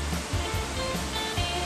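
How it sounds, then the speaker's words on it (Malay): Water pours steadily down the Seraya waterfall, reached by mountain bike, as a continuous, close, full-bodied rush with no break and no one speaking. "air terjun Seraya"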